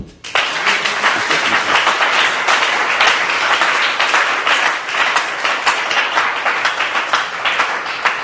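A church congregation applauds and cheers the Lord, with loud, dense clapping sustained throughout after a brief quiet start, steady and close, with no talking.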